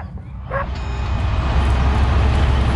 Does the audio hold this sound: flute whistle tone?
no